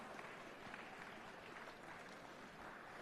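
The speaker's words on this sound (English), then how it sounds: "Request all of you to please give them a loud round of applause." An audience applauds steadily at the inauguration of a KUKA automation and robotics centre at PES University, a faint, even patter of many hands lasting the whole stretch.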